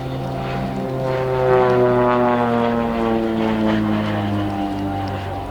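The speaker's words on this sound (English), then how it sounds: "7 has been built as a basic military training aircraft, therefore it is able to perform basic aerobatic maneuvers." A propeller-driven basic military training aircraft flies aerobatics at an airshow in clear blue sky, its engine a loud, sustained droning hum with shifting pitch under a commentator's voice.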